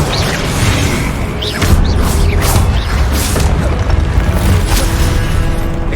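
Confringo fire spell blasting in Hogwarts Legacy combat, a loud booming burst with crackling mechanical impacts and a rolling low rumble, close and continuous over dense game sound.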